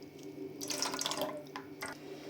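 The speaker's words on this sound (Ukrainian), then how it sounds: "Так, зіляли воду." Water pouring and splashing from a pot being drained at a kitchen sink while rendering butter at home, a steady near stream with louder gushes and a few drips, no talking.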